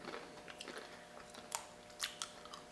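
Someone bites into homemade falafel chips made from chickpeas, vegetables and cumin, producing a series of quiet, crisp crunches. Sharp cracks are spaced irregularly between softer chewing sounds.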